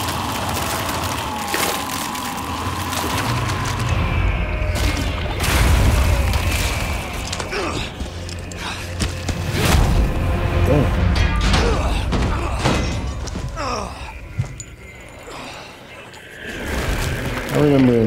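Heavy booming blasts and thuds from a rocket launcher in Resident Evil 4 Remake, loud explosions rolling under dense game noise and music while a player keeps talking over it.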